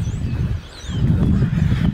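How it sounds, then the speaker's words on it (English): Crows caw in the background on a California day near orange trees and an almond orchard, faint harsh calls over low outdoor rumble. "it sounds like there are some crows in the background"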